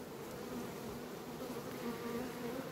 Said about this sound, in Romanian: aici se văd acele albine negre care vin în atac